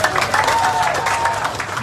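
An audience at a political meeting claps in a steady, moderately loud burst of applause with crowd murmur mixed in, filling the whole moment.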